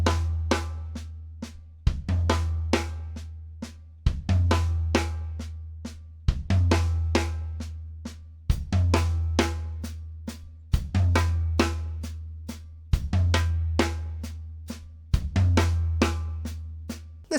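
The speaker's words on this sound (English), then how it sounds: "I'm going to play that first right hand accent on the floor tom, the left hand accent and the right hand accent will be played on the snare drum." A funk-style drum lick in the manner of David Garibaldi, accents moving between floor tom and snare drum, repeated eight times in an even cycle, each phrase opening with a deep tom hit followed by crisp snare strokes, close and loud.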